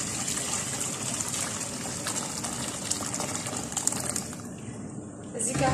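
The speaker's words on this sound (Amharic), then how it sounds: "እዚህ ጋር ሁለት ኩባያ የሚሆን ውሃ ጨመርኩ ማለት ነው" About two cups of water gush and trickle steadily into a pot of creamy chicken and carrot soup, a continuous moderately quiet pouring that swells briefly at the end.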